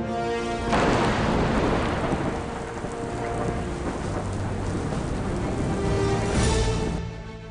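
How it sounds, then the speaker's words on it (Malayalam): Heavy rain falls steadily in Uttarakhand under a rolling rumble of thunder, a dense roaring wash that swells early and again near the end, with no voices. "ഉത്തരാഖണ്ഡിൽ വീണ്ടും ശക്തമായി മഴ പെയ്യുകയാണ്."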